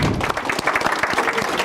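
A library event audience at the Manitowoc Public Library applauds its sponsors with dense, continuous clapping that fills the whole short stretch at an even, fairly loud level.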